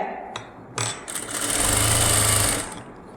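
A sewing machine double-stitches the sleeve of a lined synthetic blouse. A few clicks come first, then a short, steady, close motor hum and needle chatter that stops after about a second.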